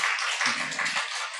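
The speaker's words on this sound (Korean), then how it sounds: "박수해 주세요." A church congregation applauds in a steady, dense wash of clapping with no breaks, heard from within the room.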